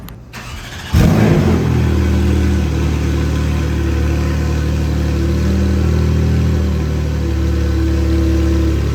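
A 2017 Audi S3 starts up and idles steadily as it is pulled into a shop for paint protection film, a firm low engine hum that holds through the clip with slight swells.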